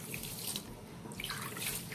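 Water being poured and mixed with salt to moisten couscous, a continuous faint splashing and trickling of liquid with no talk.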